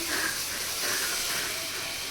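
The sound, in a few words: dosa being cooked on a hot pan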